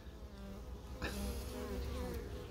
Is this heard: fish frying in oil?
no